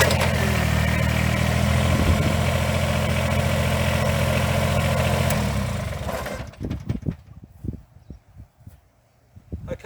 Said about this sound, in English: So I'll just jump on the tractor and do that for you now.